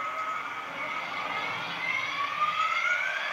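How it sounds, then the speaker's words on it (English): A model locomotive fitted with a TTS sound decoder restarts its engine. A quiet, steady electronic engine hum runs throughout, with a whine that slowly climbs in pitch. "Just restarted its engine again."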